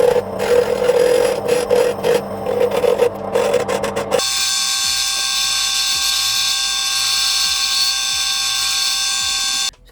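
A pen blank is turned on a wood lathe with a skew chisel. A gritty scraping rasp of the cut runs for about four seconds, then gives way to the steady, even whine of the spinning lathe alone.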